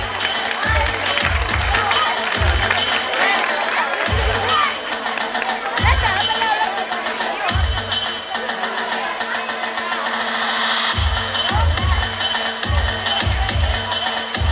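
A crowd of parents at a school annual day and prize distribution applauds continuously, a dense wash of clapping, with heavy low thumps pulsing underneath at irregular intervals.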